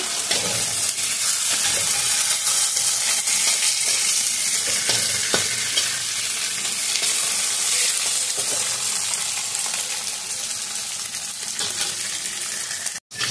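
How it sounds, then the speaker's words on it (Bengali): Steady, loud sizzling of chopped onion, garlic and green chili frying in oil, a continuous hiss with occasional stirring scrapes, ending abruptly. "পেঁয়াজ, রসুন, কাঁচা লঙ্কা সব ভাজা হয়ে গেছে বন্ধুরা"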